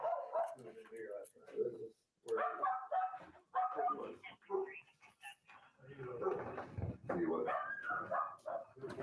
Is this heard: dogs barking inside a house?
yes